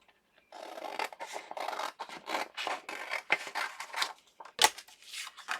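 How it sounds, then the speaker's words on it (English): Scissors cut fabric straight down the middle for a Christmas journal cover, a steady run of close, crisp rasping snips with a sharper snap near the end and no talk. "if I cut this right down the middle"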